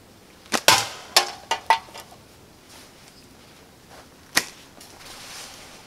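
Slingshot ammo striking a tin can on a cold day outdoors: a cluster of sharp, close metallic clinks and snaps in quick succession, then a single louder hit after a pause.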